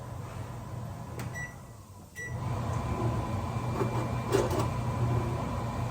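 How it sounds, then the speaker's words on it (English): A kitchen fan over cooking potato pancakes drops briefly, then rises to a louder, steady whir with a low hum and faint clicks, close by and without speech. "I'm gonna turn the fan up and then try to flip them"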